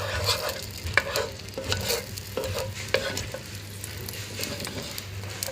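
Ginger garlic paste sizzles in hot frying oil over a medium flame, a steady close crackle broken by repeated scraping stirs and taps of a spoon in the pan.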